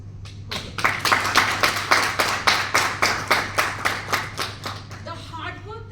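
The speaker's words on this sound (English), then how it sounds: "So a huge round of applause for this." An audience claps in unison in a steady rhythmic beat, about a dozen evenly spaced loud claps, with a faint voice speaking near the end and a low hum underneath.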